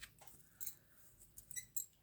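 Scissors snipping paper while trimming down the edge of a paper craft project, a few quiet, brief cuts spaced apart at close range.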